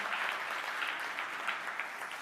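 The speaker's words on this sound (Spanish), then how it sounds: "Dale fuerte aplauso." A church congregation claps in continuous applause, a dense, even patter of many hands that goes on without pause.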